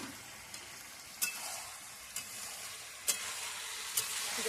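Meat and fried potato stir-fried with spices in a pan for a chicken skin, liver and gizzard dish, giving a low steady sizzle broken by a few sharp scraping stir strokes, close and fairly quiet with no talk.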